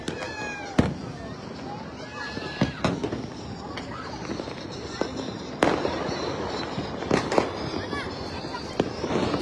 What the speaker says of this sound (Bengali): আমার চারপাশে হচ্ছে ফানুস, আতশবাজি, তারপর হচ্ছে চকলেট বোম